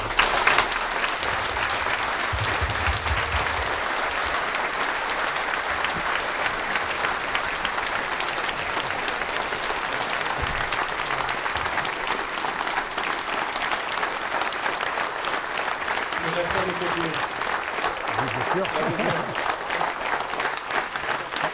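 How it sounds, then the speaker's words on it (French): A thunderous, sustained ovation fills a hall at a mayor's New Year address as the audience honours the retiring mayor, dense clapping running steadily throughout with a few low murmurs beneath. "je vous demande à nouveau un tonnerre d'applaudissements"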